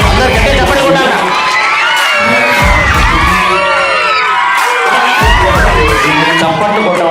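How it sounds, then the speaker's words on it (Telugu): A large crowd of school children at a model school's mock election event shouts and cheers loudly and continuously, with high whoops and yells rising and falling across the whole stretch instead of clapping. "చప్పట్లు కొట్టమంటే కేకలు వేస్తున్నారు."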